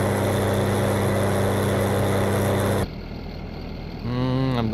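Lawn mower tractor engine in Farming Simulator 19, a loud steady droning hum that cuts off abruptly, followed by a quieter idle and then a rising engine tone.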